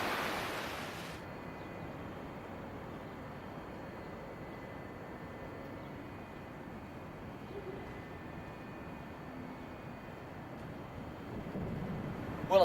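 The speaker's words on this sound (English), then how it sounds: "the sea was here" Steady, soft wash of sea waves at a deserted, boarded-up seaside resort, a continuous low roar with faint wind and no voices.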